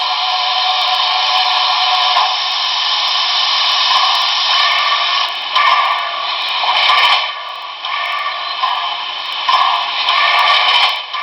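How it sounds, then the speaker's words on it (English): A Broadway Limited Great Northern S-2 model steam locomotive with a Paragon 3 sound system plays its effect of the auger feeding oil into the firebox. It is a loud, steady, hissing whoosh that pulses slightly, with no talk. "Which would be the auger, that's sending oil into the firebox."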